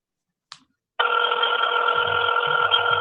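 Telephone ringing on a call to a real estate company, heard as a steady electronic ring tone starting after a short click and holding continuously, close and clear, with a faint low murmur beneath.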